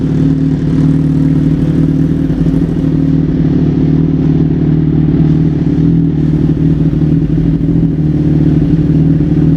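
A motorcycle engine idles after a Dynojet fuel tuner install, a loud, steady, even-running drone with slight mechanical clatter throughout, no talking.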